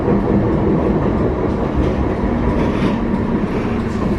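An Edinburgh tram rolls toward the city centre with a loud, steady interior rumble and rattle of the carriage and a faint rhythmic clatter from the rails, with no talking.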